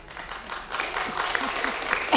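Audience clapping at a city council oath of office ceremony, a short burst of steady applause that swells slightly near the end, with faint voices beneath.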